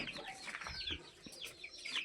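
Large breeder hens on a small village poultry farm cluck and chatter close by, quick overlapping calls and squawks, with a few faint rustles of movement.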